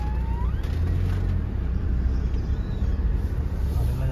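A car drives in on arrival at a village, giving a steady, close low engine and road rumble that stays even throughout with no voices.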